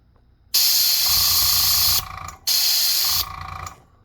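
Spray paint hisses through a stencil in two loud bursts of about a second and a half each, each tailing off into a softer sputter, close to the microphone.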